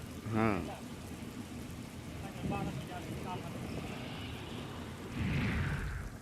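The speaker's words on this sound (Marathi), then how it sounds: "काही ठिकाणी मुसळधार पाऊस झाला" Heavy rain hisses steadily in a dense wash, with brief faint voices breaking through now and then.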